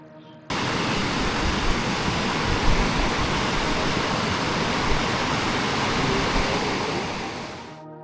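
A river rushing near Chitkul village in the Himalayas, a steady, dense wash of flowing water that stays loud and unbroken throughout, with no voices.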